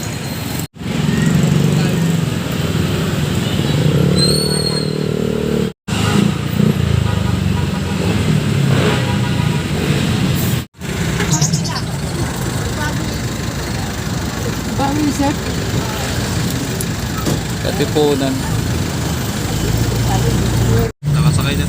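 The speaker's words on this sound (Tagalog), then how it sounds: "Nakasakay na tayo ng jeep." Jeepney engine rumbling steadily while riding through Manila, a continuous low drone with traffic noise around, brief cut-outs, and people talking over it.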